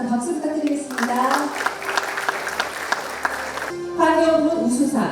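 An audience at an ESG management award ceremony applauds during a photo session, with clapping swelling between stretches of a voice speaking over it, moderately loud and close.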